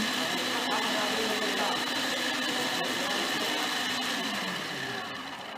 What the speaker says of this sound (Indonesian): Misalnya ini sudah selesai di blender